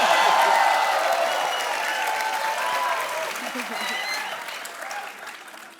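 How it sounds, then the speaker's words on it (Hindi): A television comedy show's studio audience bursts into loud, dense applause, strongest at the start and slowly fading over several seconds, with crowd voices and faint cheering mixed in. "इसका सिर्फ तालियां।"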